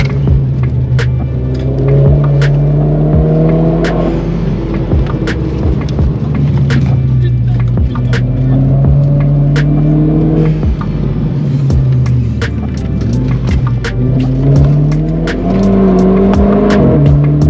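A Renault Clio 4 RS Cup Phase II engine revs up repeatedly toward 6500 rpm, climbing in pitch through several rising sweeps, loud and close, with faint voices underneath.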